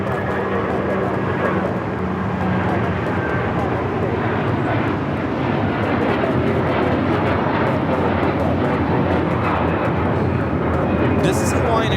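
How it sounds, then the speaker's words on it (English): Hawaiian Airlines Airbus A330-200 taking off from LAX, a steady, loud jet engine roar with a faint whining tone running throughout, while people talk quietly beneath it. "This is Hawaiian Airlines 803 taking off to Honolulu on the A330-200."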